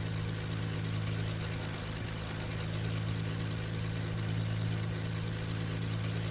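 Twin piston engines of a Beechcraft Duke B60 idling at about 1,000 RPM in Flight Simulator X, a steady low drone and hum, constant and without voices.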